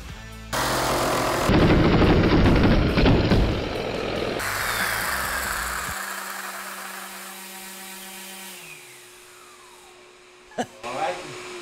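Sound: circular saw cutting a long live edge wood slab

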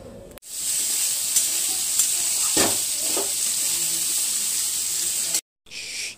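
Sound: gatte dumplings added to boiling water in a wok

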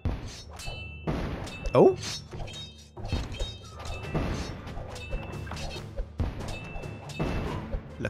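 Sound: bombs exploding in the video game Kingdom Rush

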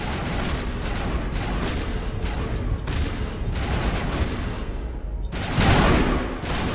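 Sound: gunfire from squadmates in the video game Mass Effect

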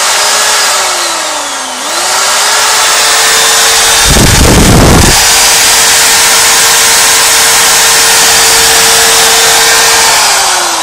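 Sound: permanent magnet alternator spinning at 1500-2000 rpm

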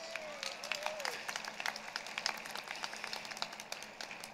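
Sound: applause for graduating class

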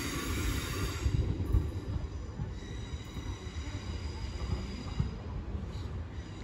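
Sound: London Northwestern Railway train passing at Northampton

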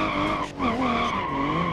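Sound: car tires skidding while drifting in BeamNG video game

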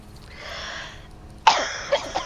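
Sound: cough

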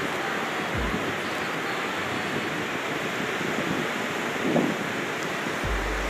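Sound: sea breeze on beach among coconut palms, Ilhéus

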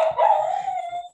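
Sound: dog barking and howling

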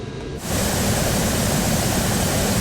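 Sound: military transport plane engines throttling up, Microsoft Flight Simulator video game

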